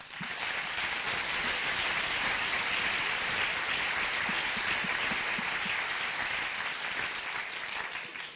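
A large audience applauds at an evening debate on the existence of God, dense sustained clapping that fills the hall evenly, loud and continuous before tapering near the end.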